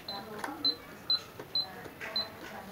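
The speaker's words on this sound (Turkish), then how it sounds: "Yazar kasa. Bir çevir göster bakalım." A toy cash register emits a series of short, high electronic beeps, about five in quick succession, while people talk over them.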